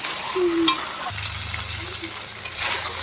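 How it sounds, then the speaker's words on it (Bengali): Potatoes and pointed gourd are stirred and fried in a spice masala, making a close, steady sizzle with soft scraping strokes and a few sharper clinks of the spoon against the pan. "দিয়ে এটাকে একটু নাড়াচাড়া করে মিশিয়ে নিয়ে একটু কষিয়ে নেবো"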